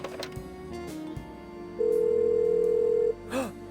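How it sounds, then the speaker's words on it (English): A steady telephone dial tone in the Blackwell Unbound video game hums unbroken for over a second, loud and clear, after a few soft clicks and background game music. "My God, we get a dial tone."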